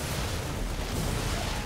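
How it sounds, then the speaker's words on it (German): A dense barrage of booming explosions as Protoss and Zerg units die in a StarCraft II match, a continuous loud rumbling roar with no talking. "wie einfach nur alles wegplatzt und explodiert"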